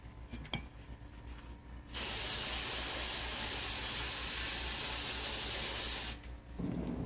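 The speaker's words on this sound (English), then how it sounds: "A little bit of brake parts cleaner" Brake parts cleaner is sprayed from an aerosol can while degreasing a Bosch K/L-Jetronic auxiliary air valve, giving one steady, loud, close hiss of about four seconds with quiet handling noises before and after.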